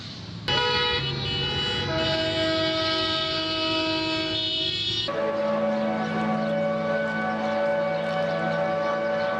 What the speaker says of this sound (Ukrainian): Рівно опівдні у Донецьку загоділи заводи.